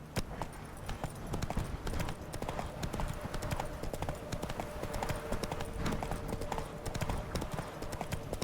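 Rapid, even hoof clatter from a galloping horse in The Witcher 3: Wild Hunt, Blood and Wine, loud and close with a dense, driving rhythm throughout.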